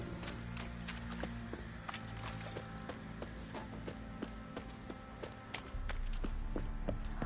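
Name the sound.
horses clip-clopping in The Witcher 3 video game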